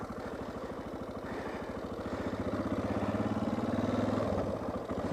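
A Suzuki DR650 motorcycle rides over smooth dirt hills, its engine a steady, rapid thumping pulse that swells slightly louder as it climbs, then eases off near the end.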